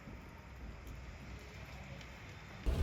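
Heavy rain pours steadily outside a car dealership where a truck is parked, a constant close hiss with no break and no voices until a brief louder thump at the end.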